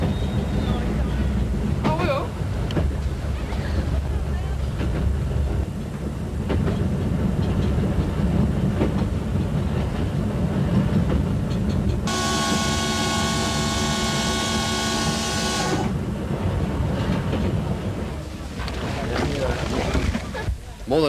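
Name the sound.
special train running on rails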